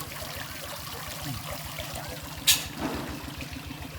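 A steady rush of falling water with a low pulsing rumble, continuous throughout, with a brief sharp clatter partway through.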